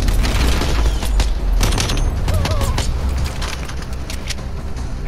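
Pistol shots in the Call of Duty Cold War video game ring out as repeated sharp cracks over a loud, busy game mix of rumble and effects, with a voice talking over parts of it.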